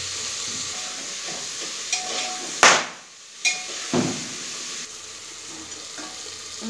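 Onions frying with ginger paste in a pan, a soft sizzle broken by a few sharp spoon knocks against the vessel and brief stirring scrapes.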